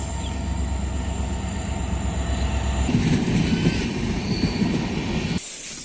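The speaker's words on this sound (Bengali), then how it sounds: "আমার ট্রেন এসে পড়েছে, সরাসরি ট্রেন আসে" A train pulls into a station on a foggy morning in Goalpara, Assam, with a loud steady rumble and a high whine, the wheels rolling and clattering more heavily midway before the sound suddenly cuts off.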